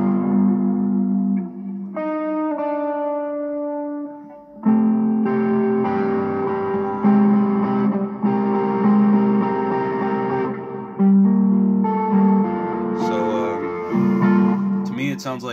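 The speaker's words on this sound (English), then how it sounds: "messing around with some reverb from the Avalanche Run, and then that little bit of, you know, overdrive sound is from the Tube Screamer" An electric guitar riff plays from an RC-3 loop station through an Avalanche Run reverb and a Tube Screamer overdrive. Sustained, slightly distorted chords and notes ring out with reverberant tails, shifting through several phrases, loud and close.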